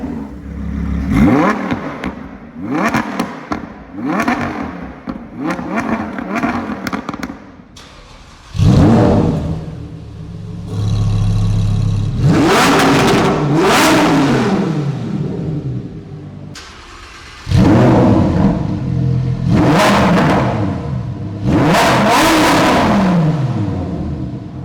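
Lamborghini Huracan V10 engines, EVO, 610, STO and Performante, rev loudly one after another, each blip rising sharply and falling away, with short gaps and several longer, higher-pitched sweeps, close and powerful.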